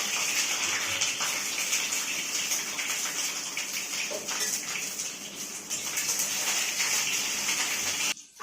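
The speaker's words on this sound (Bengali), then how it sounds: "ডিমটা ভাজা হয়ে গেছে, খুব একটা বেশি ভাজবো না" Peeled hard-boiled eggs fry in oil with a loud, continuous, close sizzle that holds steady for several seconds, then cuts off abruptly.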